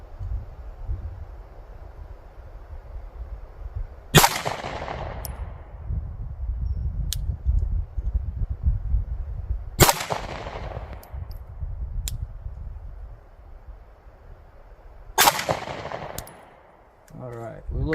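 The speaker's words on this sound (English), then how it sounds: "we're just sighting in the Judge XL on the little 48, Glock 48X" Three widely spaced gunshots from a Glock 48X pistol fitted with a Judge XL sight crack sharply outdoors, each trailing a brief echo over steady wind and background rumble.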